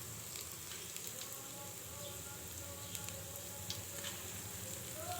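Small snack fritters, made without flour, fry in a pan until red, giving a faint, steady sizzle and crackle with occasional soft pops.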